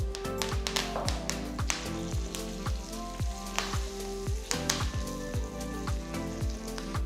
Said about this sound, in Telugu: సో ఆవాలు చిరపలాడుతున్నాయి